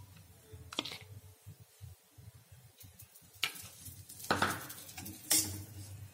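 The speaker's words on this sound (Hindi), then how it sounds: "उसको अच्छे से मिक्स करेंगे।" Besan is stirred and roasted with desi ghee in a pan, giving irregular scraping strokes of a spoon against metal over a soft sizzle. A few sharper clinks stand out toward the end.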